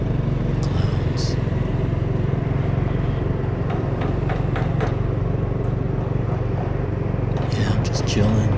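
A motorcycle engine hums steadily while riding in the evening, a constant low rumble with wind noise close up throughout, with faint brief sounds on top.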